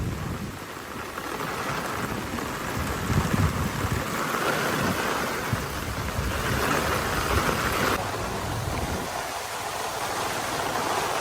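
Heavy rain pours steadily in a dense, continuous hiss during flooding in Ropar, Punjab, loud and unbroken throughout with no voices.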